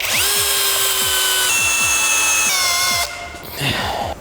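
A Procraft PA-18 PRO DFR cordless impact driver with a 10 mm socket drives a 6x120 wood screw into a log: a loud, steady motor whine with rhythmic hammering impacts, then a pause and a shorter final burst.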